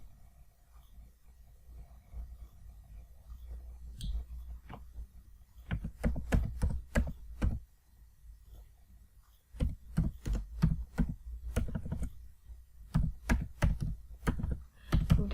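Computer keyboard keys are pressed in short clusters of sharp, close taps separated by quiet pauses, one brief stretch of typing after another, with no voices.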